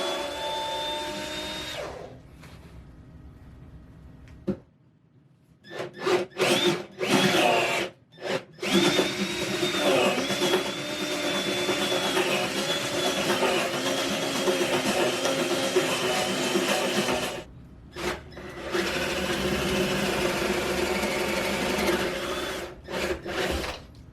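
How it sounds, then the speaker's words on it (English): A power drill bores holes into a wooden headboard for a rustic queen bed, its motor whining loud and steady in long runs broken by short pauses and a few brief bursts between stops. "I'm going to go ahead and drill these out."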